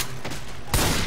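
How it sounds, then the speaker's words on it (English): Video game gunfire bursts out loud and close, a brief crackling volley hitting hard partway through the short moment with no talk over it. "Watch where you're shooting."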